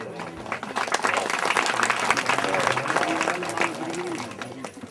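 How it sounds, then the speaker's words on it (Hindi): An audience at a religious gathering for a guru claps in welcome, dense continuous applause that swells and fades slightly, with a voice talking over the crowd. "ताली बजा करके स्वागत करें।"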